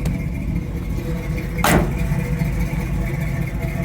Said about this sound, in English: You hear the Chevy.